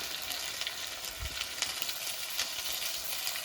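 Chicken coated with spices, salt and turmeric fries in a pan, a steady close sizzle broken by light scraping stirs, no one talking.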